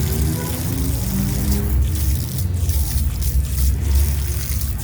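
Water gushes from a garage tap at the far end of a house's plumbing run, a steady loud rushing stream heard alone.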